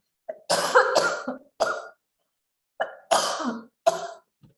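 Several harsh coughs in two bursts separated by a short pause, close and loud, with a rough throat-clearing quality.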